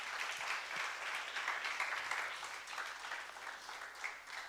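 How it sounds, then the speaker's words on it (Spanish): Congregation in a church service applauding steadily, a dense, even wash of many hands clapping throughout, moderately loud with no speech over it. "Dele un aplauso al Señor"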